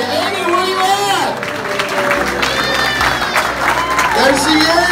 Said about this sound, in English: There she is, round of applause